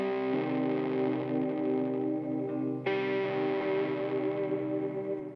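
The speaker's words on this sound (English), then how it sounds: "especially here with the splat setting, is that it gives a very particular quality to the decay of the guitar" A guitar runs through a Valco KGB fuzz pedal on its splat setting, giving a thick, buzzing distorted tone that sustains loudly throughout, with a fresh attack near the middle and a ragged, uneven decay.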